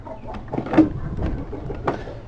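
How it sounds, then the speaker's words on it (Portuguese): Chickens being chased around a yard in São Paulo give a few short, scattered clucks and squawks, fairly close, over rustling and background noise. "Galinha da porra."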